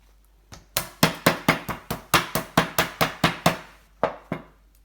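Crab shell is crushed by hand in a kitchen to break off the sharp parts, giving about a dozen sharp, evenly spaced cracking knocks, close and loud.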